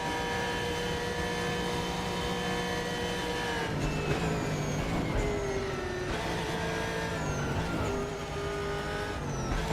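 A racing car engine in the RaceRoom video game roars steadily at high revs, pitch climbing and dropping through gear shifts, with brief tire squeals, loud and continuous with no talking.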